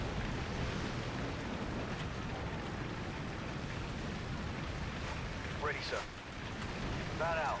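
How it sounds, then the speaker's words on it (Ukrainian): Stormy sea waves in the Call of Duty 4: Modern Warfare video game, a loud, continuous roar of wind and churning water like heavy rain, with faint, brief tonal sweeps near the end. "Ну і хвилі."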